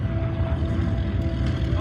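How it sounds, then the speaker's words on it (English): A T-28 warbird's big radial engine drones at an airshow with a steady low rumble and wind noise, moderately loud and continuous. "The big radial engine,"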